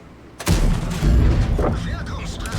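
A tank cannon fires in World of Tanks, a sudden heavy boom followed by a rumbling second blast and lingering low roar, loud and close amid game noise, with a voice talking over it.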